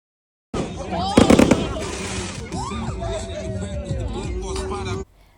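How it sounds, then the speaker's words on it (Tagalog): Fireworks by the sea crackle and pop in a dense New Year burst, with whistling rockets rising, over a steady crowd murmur outdoors. "The best nga ang fireworks sa tabing dagat."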